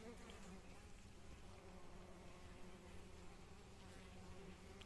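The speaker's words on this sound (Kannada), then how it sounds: "ಜೇನು ನೊಣವೇ ಅದು ಸಹ." Honeybees buzz around a wooden bee box, a continuous faint hum of many wings droning steadily throughout at close range.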